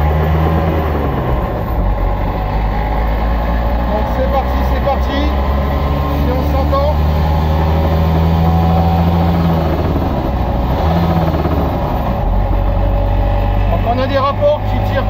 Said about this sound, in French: c'est quand même un véhicule léger à moteur mais très bruyant pour le coup